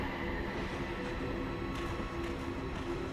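Steady rumble of a train carriage interior from the film Final Destination 3, a continuous low rolling roar with faint wheel rattle and hum, heard alone and fairly loud throughout.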